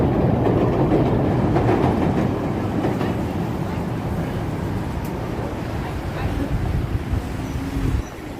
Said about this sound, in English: So here comes the L train here.